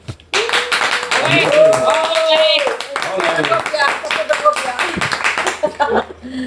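Studio applause on a Spanish radio-style programme: sharp clapping under loud overlapping talk and laughter, with voices dominating throughout.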